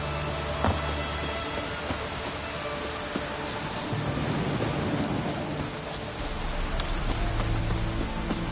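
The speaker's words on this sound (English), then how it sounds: "Looks like rain." Steady rain falling in the video game The Witcher 3, a continuous broadband hiss with scattered drop patters and a low rumble beneath, steady throughout at moderate level.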